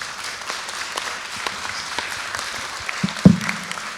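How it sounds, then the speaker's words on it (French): A conference audience at a health innovation forum gives moderate, scattered applause. The clapping is soft and fairly sparse and ends with a couple of louder knocks or thumps near the finish. "On vous applaudit."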